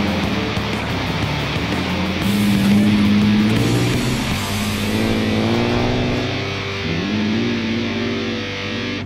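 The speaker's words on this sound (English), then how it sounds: "These cars are a lot of fun to drive on the ice." Lexus IS 300 race cars on an ice track in Minden, Ontario, rev hard through a buzzing, distorted engine note. Pitch rises and falls through shifts, loud and close, with no speech.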